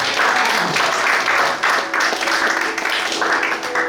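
A church congregation applauding during a sermon, with loud, sustained clapping from many hands that swells in waves and fills the whole stretch.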